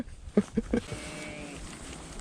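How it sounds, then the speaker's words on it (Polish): Sheep bleating by the water, a few short close calls in quick succession early on, then quieter outdoor background. "O, owce."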